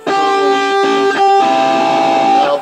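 Distorted electric guitar plays a short chordal riff of a few sustained, crunchy minor flat-five chords, loud and close with no talking.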